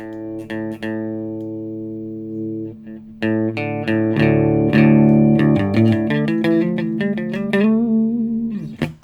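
Musiclily ODDT-01 distortion pedal with its gain turned all the way down gives a clean, quiet electric guitar tone, with plucked single notes first and then strummed chords ringing out in a steady, close phrase with no talking.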